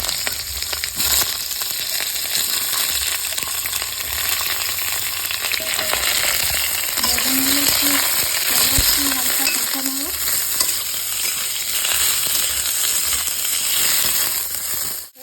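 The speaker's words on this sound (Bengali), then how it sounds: "ফোড়ঙে তেল দিয়ে দেবো বেগুনগুলো প্রথমে দিয়ে দেবো" Eggplant pieces frying in hot oil tempered with cumin, nigella seeds and two dry red chilies, giving a steady, close, loud sizzle throughout with a brief stirring scrape midway.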